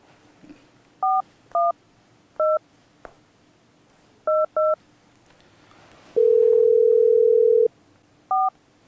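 Phone keypad tones as a number is dialed: short, separate beeps in small groups, a single long steady tone, then one more beep, crisp and clear against a quiet room.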